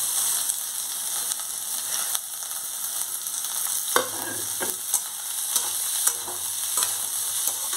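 Boiled bottle gourd peel stir-fried in a pan with a fried paste gives a steady sizzle, broken by scraping, clattering stirring strokes that come every second or so near the end.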